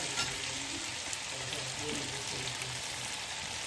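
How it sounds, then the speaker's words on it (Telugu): Tomatoes and bottle gourd frying in oil for Hyderabadi mutton dalcha, a steady, close sizzle with a soft patter of spattering that runs unbroken the whole time and has no voice over it. "సొరకాయలు కూడా దీనిలో వేసేసుకొని మంచిగా ఆయిల్లో ఫ్రై చేద్దాం."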